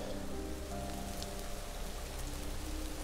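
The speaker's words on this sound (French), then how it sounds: "il pleut énormément mes amis, je vais attendre progressivement que ça se calme." Heavy rain pours down through trees beside a river, a dense, steady hiss of drops striking leaves and surfaces, close and continuous with no speech.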